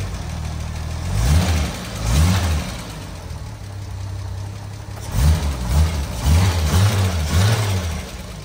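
A 1962 Jaguar XKE idles after a cold start with a low, steady engine rumble, rising in several short throttle blips: two early revs, then a quicker cluster of revs later, all heard close by without talk.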